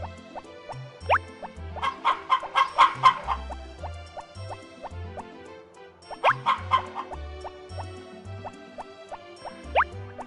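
Video game chickens in a barn in Harvest Moon: Back to Nature cluck in two matching bursts of rapid, bright calls over a bouncy looping tune with plopping bass notes.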